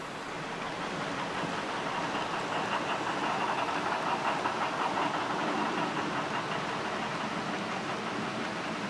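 A heavy steam train pulled by a Big Boy locomotive rolls downhill on Sherman Hill. It makes a continuous, broad rumbling roar with faint rhythmic clatter, heard at a steady distance with no voices.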